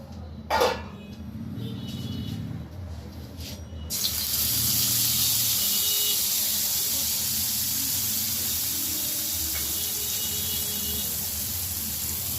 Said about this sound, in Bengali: এবার ওই তেলের মধ্যেই আমি পোস্ত বাটাটা দিয়ে দিচ্ছি